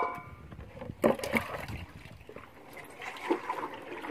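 Water poured and splashing as a chicken drinker is refilled in a backyard poultry yard, with uneven trickling bursts and sloshing, loudest around the middle and again near the end.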